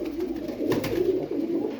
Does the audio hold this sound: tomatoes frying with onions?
no